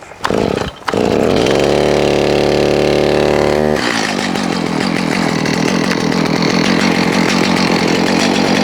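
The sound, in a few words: chainsaw engine starting and running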